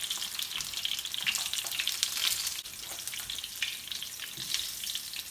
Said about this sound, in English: Now I'm going to fry this brinjal in oil and start the cooking.